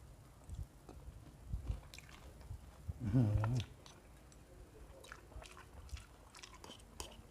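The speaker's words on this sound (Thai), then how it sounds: "มันกินทอด กรอบๆกินได้ทั้งก้างเลย" Crispy fried croaker fish, eaten bones and all, being bitten and chewed up close: soft crunches scattered through, with one louder, longer burst of chewing midway, quiet between and no talk.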